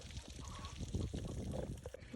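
Water pours and trickles faintly onto the ground around trees on a hot Arizona property at 105 F, a soft, continuous splashing flow.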